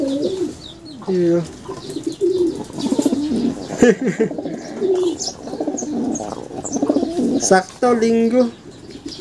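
Racing pigeons just back from a long-distance race coo in repeated throaty bursts close by, with a few chirps, while someone talks over and between the calls.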